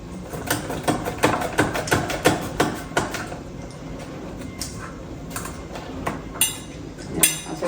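A knife chops potatoes for bhaji on a board with quick, sharp, rhythmic taps, dense at first and then more spaced out and irregular, close and fairly clear.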